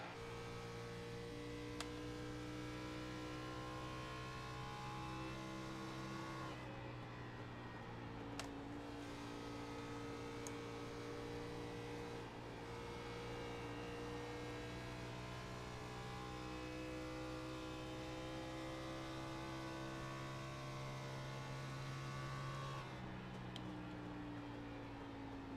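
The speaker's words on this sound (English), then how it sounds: "You can hear just how deep he's decelerating into the corner" A sim race car's engine drones steadily at Texas Motor Speedway, heard from onboard, its pitch sliding down and back up as it decelerates deep into a corner and then accelerates out, with no talk over it.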